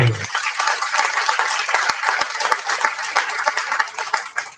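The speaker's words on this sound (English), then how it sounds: "Round of applause for Victor" Outdoor applause rises from a crowd at a school alumni block ribbon-cutting ceremony, a dense, sustained clatter of many hands clapping close by that holds steady for several seconds.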